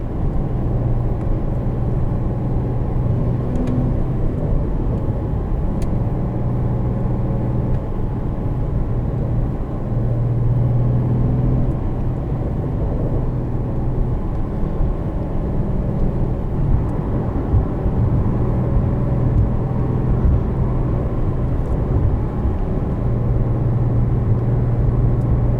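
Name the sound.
2020 Porsche 911 (992) Carrera 4S manual driving, engine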